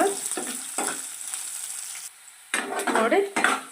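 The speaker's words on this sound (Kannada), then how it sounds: "ಈರುಳ್ಳಿನ ಸ್ವಲ್ಪ ಗೋಲ್ಡನ್ ಕಲರ್ ಬರೋವರೆಗೂ ಫ್ರೈ ಮಾಡ್ಕೊಳ್ಳೋಣ" Chopped onions sizzle loudly in a hot pan for a horse gram sambar, with a spoon stirring and scraping in repeated bursts and a brief quieter gap in the frying.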